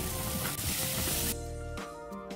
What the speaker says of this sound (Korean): 양파와 마늘을 볶고 버섯도 볶아줄게요